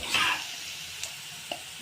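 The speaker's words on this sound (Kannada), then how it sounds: "ನೋಡಿ ಇದೆಲ್ಲ ಈರುಳ್ಳಿ ಎಲ್ಲ ಚೆನ್ನಾಗಿ ಫ್ರೈ ಆಗಿದ್ದಾವೆ." Onions fry in a pan with a hissing sizzle while being stirred, marked by a short scraping stir at the start and two soft taps afterward.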